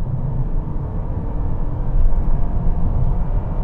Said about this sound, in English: you get that droning noise from the engine because of the way the CVT gearbox keeps the revs at a constant rate